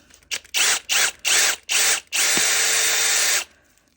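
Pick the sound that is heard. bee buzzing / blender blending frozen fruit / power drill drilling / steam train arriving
power drill drilling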